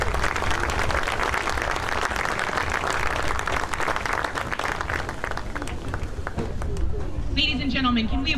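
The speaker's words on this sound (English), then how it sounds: "can we have one more round of applause for the 2024 seniors from Fairview?" Crowd in the stands at a high school football game, Corry Beavers at Fairview Tigers, applauds the Fairview seniors on senior night with sustained dense clapping and cheering that tapers toward the end as a voice comes over the announcer's speaker.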